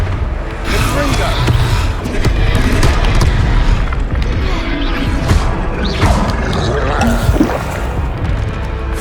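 Repeated booming fire-blast spell impacts in Hogwarts Legacy during a troll fight, heavy thuds and crashes scattered through dense game action with a voice speaking over them.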